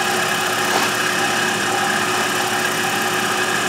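A Tormach 8L lathe spins a long bar at 2,000 RPM, giving a steady, continuous mechanical hum with a faint high whine, even and unbroken throughout with no talking.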